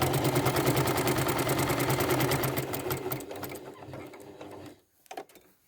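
A sewing machine quilts a straight line on a quilt block, its needle hammering in a rapid steady chatter up close, slowing and fading out before a brief final burst of stitches.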